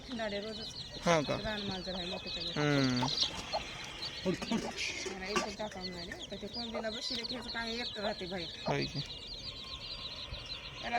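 Desi gavran hens cluck and cackle close by in a farmyard, with repeated bursts of calls while people talk over them.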